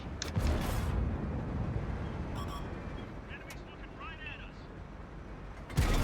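A tank cannon fires in World of Tanks, with booming low-end blasts at the start and near the end over steady battle rumble, plus a few short mechanical clinks between them.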